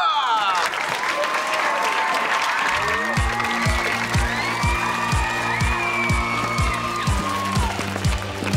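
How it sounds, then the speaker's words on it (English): Studio audience applause on a TV comedy set, loud, steady clapping and cheering throughout, joined midway by an upbeat music track with a strong repeating beat. "Clap it up for Tori Vega"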